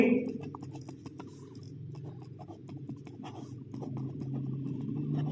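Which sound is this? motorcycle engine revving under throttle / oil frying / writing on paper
writing on paper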